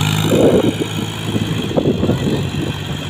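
A tractor engine rumbles steadily on a rice paddy field after the tractor is freed from being stuck, a loud continuous drone with uneven chugging pulses.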